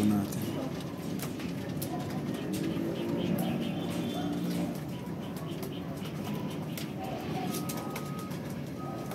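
Soft pigeon coos repeat amid a busy outdoor murmur of birds and background voices, at moderate distance, during a racing pigeon race.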